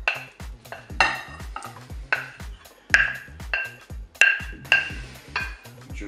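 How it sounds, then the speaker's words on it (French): A utensil scrapes and clinks in a bowl while potato salad with eggs is stirred, making a steady rhythm of repeated knocks and scrapes with ringing taps. No one speaks. "Alors, on mélange délicatement."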